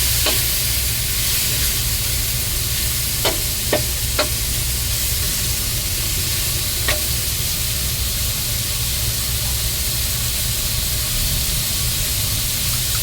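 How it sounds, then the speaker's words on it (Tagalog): Bitter gourd (ampalaya) sautés in a pan with very little oil, giving a loud, steady sizzle throughout, broken by a few sharp utensil scrapes and clicks. "Ang malalas pag nagigisa kasi ako ng mga gulay"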